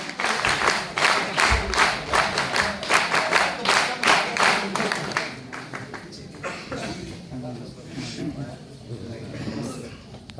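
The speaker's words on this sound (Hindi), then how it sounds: "जोरदार तालियां सर के लिए।" An audience bursts into loud, dense clapping that holds for about five seconds and then thins out, with voices carrying on beneath the dwindling applause.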